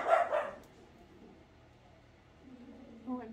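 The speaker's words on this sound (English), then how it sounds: "I don't know what he's barking at." A dog barks a few times close by in a quiet room, a short burst at the start, then a faint low murmur and another brief bark near the end.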